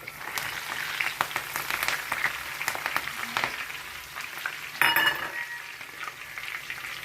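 Curry leaves and dried red chillies crackling in hot oil, a steady close sizzle with sharp popping bursts throughout and a louder spattering flare partway through.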